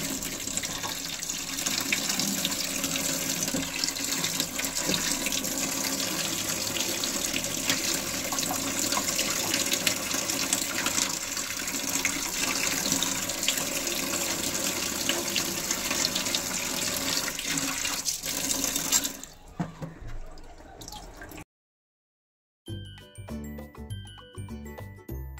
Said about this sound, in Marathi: ह्या पद्धतीने आपण सर्व मुशी छान अशा धुवून घेऊया।